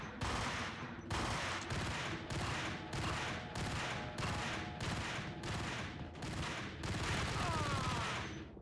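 Rapid gunfire in the shooter video game Max Payne, a steady string of about a dozen loud, evenly spaced bursts over ongoing game ambience, close and dominant.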